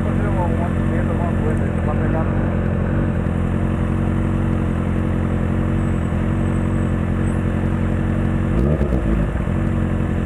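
A Honda CB1000 Hornet HRC motorcycle in Captain America chrome-purple livery drones steadily under way with a constant, close engine hum and wind rush. Only brief clattering bursts break it up.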